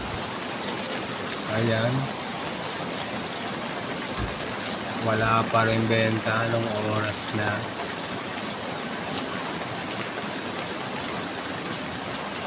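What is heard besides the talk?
rain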